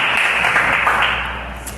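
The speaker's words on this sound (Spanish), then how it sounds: "Dale un fuerte aplauso al Señor." Congregation applause in the Peniel Church Cali sanctuary: a dense, steady wash of many hands clapping, loud and sustained for the whole stretch, without clear spoken words.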